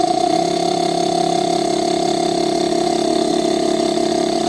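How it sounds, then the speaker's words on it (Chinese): A faulty refrigerator inverter compressor driven by a tester near its maximum frequency runs with a steady, loud, droning hum and a constant tonal whine that holds unchanged throughout, with no speech. "现在咱们打开检测仪，用检测仪驱动压缩机运转，看一下运转电流啊。"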